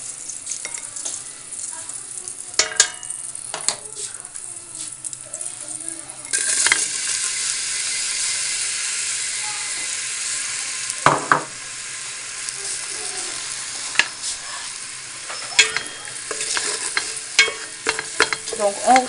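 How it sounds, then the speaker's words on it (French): Onions sweating in a frying pan for a turkey or capon stuffing, stirred with a utensil: a steady close sizzle with repeated scraping strokes and occasional sharper knocks against the pan, no voices. "Donc on fait revenir les oignons"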